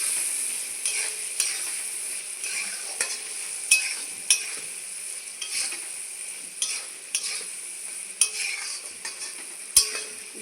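Fish oil with turmeric and salt is stirred in a frying pan, a bright steady sizzle with scattered scrapes and taps of the spoon. It is close and alone, with no talking.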